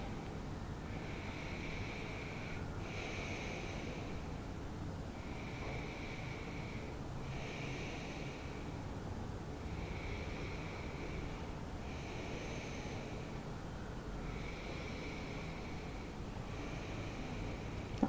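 Slow, steady yoga breathing during a seated cross-legged pose, with about seven long even breaths at a regular pace against a constant background hiss; nobody speaks.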